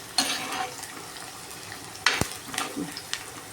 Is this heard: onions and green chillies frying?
yes